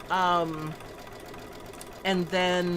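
An embroidery machine stitching a quilt block hums steadily in the background while a person talks over it at the start and end.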